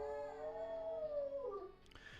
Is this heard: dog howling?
yes